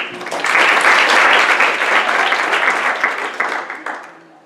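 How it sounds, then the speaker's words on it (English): An audience at an evening philanthropy event applauds steadily, a dense wash of many hands clapping at close range that holds for several seconds and then tapers off. "please join me in one more hand of applause"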